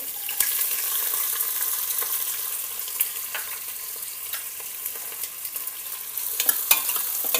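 Onion and green chilli frying in a pan for methi khichadi, a bright close sizzle with bursts of crackle and repeated spoon scrapes and taps as the mixture is stirred, with no talking.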